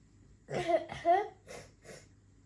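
A sick child coughs a few times in short, close bursts, separated by brief pauses in a quiet room.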